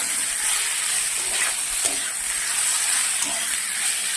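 Masala with tomato stir-fries in a pan for a fish curry, a dense steady sizzle up close with a few soft stirring scrapes.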